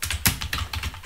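Several quick keystrokes clack on a computer keyboard in short, irregular bursts, close and clear, with no talking over them.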